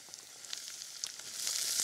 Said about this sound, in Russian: Так, у меня обжарился лук.